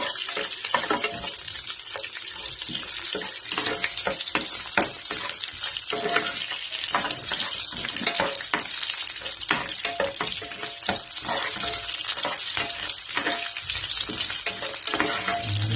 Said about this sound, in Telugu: పచ్చి కరివేపాకు పచ్చిమిర్చి చింతలు జీడిపప్పు బాగా వేయించుకోవాలండి